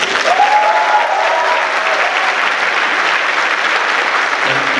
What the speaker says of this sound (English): May I request the classes to clap for everyone in this hall.